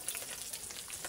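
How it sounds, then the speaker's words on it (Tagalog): Fish fries in hot oil for a home dinner, a brief, faint, crackling sizzle heard close up with no talking. "Nagprito na lang tayo ng isda para sa ating hapunan"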